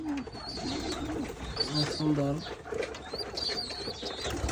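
Domestic pigeons coo softly in a home pigeon loft, with a blue pigeon pair among the birds, low murmuring calls repeating under a person's quiet voice.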